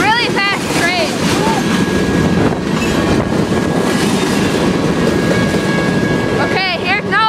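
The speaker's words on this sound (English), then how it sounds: "It's a really fast train." A fast train rushes past close by in a continuous loud roar with heavy wind buffeting, and sharp squealing tones rise at the start and end.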